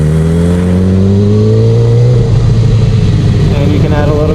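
A motorcycle accelerates across a parking lot, its engine note climbing steadily and loudly before dropping as a gear changes, then it runs on at a rough, even drone.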